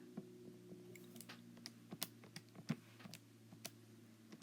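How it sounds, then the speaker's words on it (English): Quiet, irregular taps of small calculator keys being pressed one after another over a low steady hum. "I'm typing this into my calculator"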